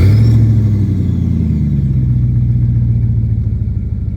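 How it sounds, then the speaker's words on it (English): A 1998 Jeep Grand Cherokee with the 5.9L engine, riding on 38-inch tires, sends out a deep, steady exhaust rumble while driving down the road. The note is loud and close and holds a constant low drone throughout. "I love the exhaust note of this Jeep"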